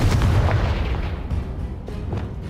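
A Confringo fire spell explodes in the video game Hogwarts Legacy, a loud, booming blast with rumbling tail-off that fades over a couple of seconds.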